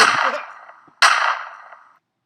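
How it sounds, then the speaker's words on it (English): Two sharp, loud gunshot sound effects about a second apart in a comedic radio parody, each a hard crack with a ringing tail that fades, followed by silence. "that interview was cut short by an unrelated shooting"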